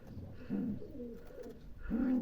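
Chinese Owl pigeon chicks cooing softly nearby, a few low throaty coos in two main bursts, quiet and close in an indoor loft.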